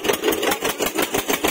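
A tractor engine chugging during a tochan pulling contest between an Eicher 242 and a Mahindra 265, a loud, close, rhythmic pulsing beat with no talk.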